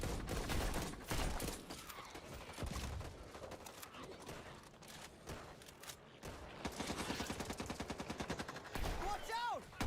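Gunfire from a video game trailer shown at The Game Awards 2020, with repeated rapid shots and bursts in a loud, dense mix alongside music and effects, and a voice shouting over it.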